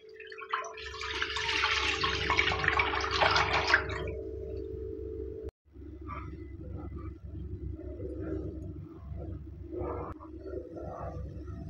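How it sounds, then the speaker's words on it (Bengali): Milk poured into a heated wok that already holds a little water, a steady splashing rush for about four seconds that ends abruptly, then low clattering and bubbling, close, with no talking. "এবার দুধটা দিয়ে দিচ্ছি।"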